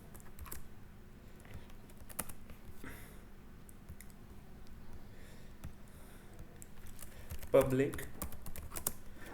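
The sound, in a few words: typing code on a computer keyboard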